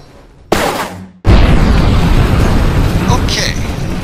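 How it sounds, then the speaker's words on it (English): A rocket blows up on the launch pad in Kerbal Space Program, first a loud burst, then a brief gap, then a heavy, sustained roaring rumble that keeps going to the end. "We have an explosion on the pad."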